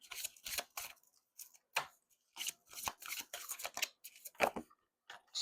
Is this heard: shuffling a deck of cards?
yes